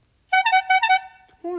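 Apple iPhone 'Horn' alert tone, a short burst of bright, buzzy honks in a quick stuttering rhythm, heard up close, with a voice starting just after it ends.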